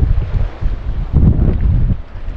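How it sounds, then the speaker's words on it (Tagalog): Strong wind buffets the microphone in a low, gusty roar that swells and fades across a couple of seconds on an outing to catch fish. "Let's go po sa sobrang lakas na ng hangin."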